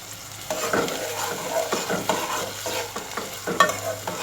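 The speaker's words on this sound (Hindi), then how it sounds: "अब हम एक टमाटर काट के डाल रहे हैं।" Chopped small tomato goes into potato masala frying in a pan, with irregular scraping stirs over a soft steady sizzle and no one talking.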